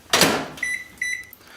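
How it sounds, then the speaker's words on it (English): A kitchen microwave oven heating couverture chocolate for truffles gives a door clunk and then two steady electronic beeps, each a short sustained tone, fairly quiet in a still room. "we're going to start melting it right here in the microwave"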